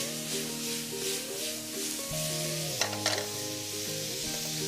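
Jamaican garlic green beans are stirred and tossed in a hot pan, a continuous sizzle with scraping and shuffling movement and a couple of brief clinks near the end, no talking.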